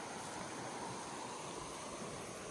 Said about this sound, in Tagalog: Dito pala nanggagaling yung tubig ng Pagsanghan Falls.